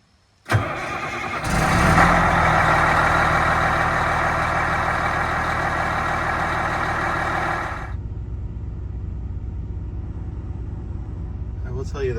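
A bus's four-stroke diesel engine revs to 2,000 RPM with a loud, steady roar held for several seconds, then drops back to a lower rumbling idle.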